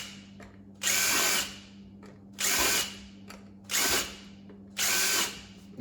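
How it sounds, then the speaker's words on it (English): A power drill whirs in four short bursts with pauses between, boring through plastic up close over a low steady hum. "And I'll just drill the holes in here."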